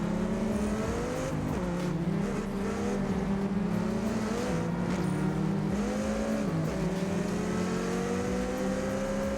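A racing car's engine in TDU: Solar Crown drones loudly and steadily, its pitch climbing and falling through repeated gear changes and throttle shifts.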